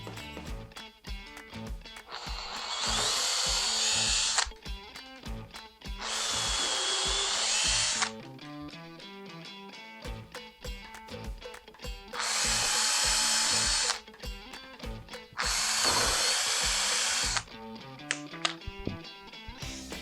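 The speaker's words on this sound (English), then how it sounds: "So we'll just pre-drill some holes." A power drill pre-drills screw holes for a DIY backdrop wall, running in four loud sustained bursts of a few seconds each, with pauses and clicks between them.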